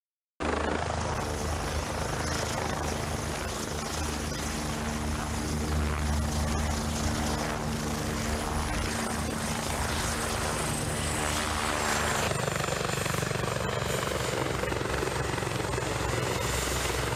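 A helicopter flies steadily nearby, its rotor and engine producing a dense, continuous, loud drone with a rhythmic thrum that holds throughout without pause.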